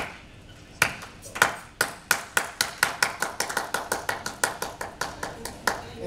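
An audience performs a rain clap imitating rainfall: scattered claps start sparsely, then build into a quickening, irregular patter of many hands, each burst sharp and distinct, moderately loud and near.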